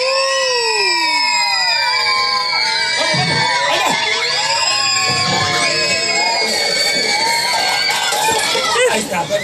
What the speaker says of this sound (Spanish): todo el mundo gritando ya.